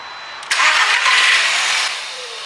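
An Audi A3 1.4T engine cranks and catches with a sudden roar, then settles into a steady idle that drops a little in loudness.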